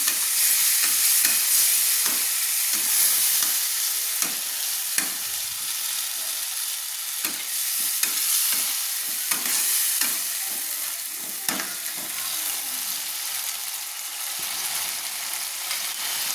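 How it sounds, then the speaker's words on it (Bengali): Cumin paste and ginger paste stirred and frying in a pan for fish curry with cauliflower, a steady loud sizzle broken by repeated scraping strokes of the spoon throughout. "দিয়ে দিলাম আমি জিরে বাটা। দিয়ে ভালো করে নেড়ে নিচ্ছি"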